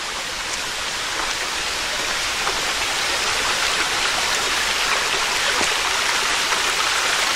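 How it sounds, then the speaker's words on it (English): A small woodland stream tumbling over little waterfalls on a trail in Worlds End State Park, Pennsylvania, a continuous close rush of splashing water without any voices. "And we have our first stream"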